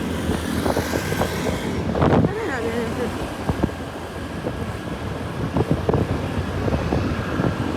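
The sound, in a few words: BMW car passing on highway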